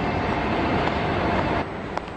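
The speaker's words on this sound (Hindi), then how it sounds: "ओ, ये ट्रेन तो बहुत लेट आई है।" A train arrives at a station in an animated show, a loud steady rumble that drops a little in level near the end.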